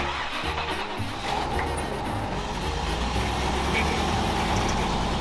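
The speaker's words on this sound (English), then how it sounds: "I gotta move the truck" An off-road wrecker truck is moved on a mountaintop at 10,000 feet. Its engine gives a steady, loud rumble that stays close and continuous, with faint beeping and other mechanical noises mixed in.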